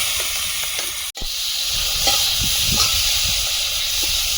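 Dried shrimp seasoned with salt and turmeric frying in hot oil over a stove, a steady broadband hiss and sizzle throughout with a brief dropout near the start.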